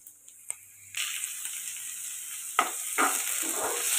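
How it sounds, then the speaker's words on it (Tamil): Bitter gourd is added to browned onions in a pan, with a quiet start and then a sudden jump into a steady, close sizzle, broken by a few scraping stirs. "இப்போ வந்து நான் பாகக்காய் சேர்த்து நல்லா ஒரு 2 to 3 நிமிஷத்துக்கு வந்து கிளறி விட"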